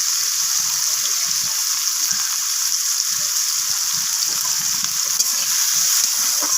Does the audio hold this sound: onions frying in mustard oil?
yes